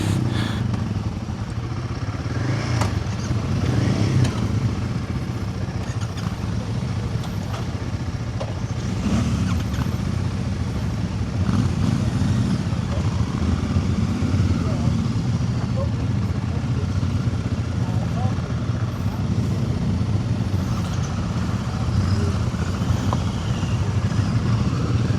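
A Royal Enfield Guerrilla 450 motorcycle rides along on a demo-day test ride, its engine a steady mid-level drone with wind rush, while a rider talks over it throughout.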